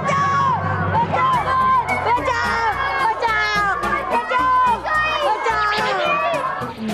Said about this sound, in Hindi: बच्चों को चिल्लाने की आवाज आ रही है